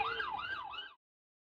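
A wailing siren sweeps up and down for about a second, then cuts off abruptly into silence.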